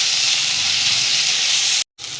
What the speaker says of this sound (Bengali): এবার দিয়ে দেবো আদা রসুন বাটা। খুব ভালো করে কষিয়ে নেব।